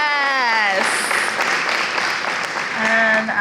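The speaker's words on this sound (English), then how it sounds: "A round of applause for her again." Audience applause at an Indomie Heroes Award ceremony, a burst of clapping and crowd noise that swells for a couple of seconds between spoken lines from a host.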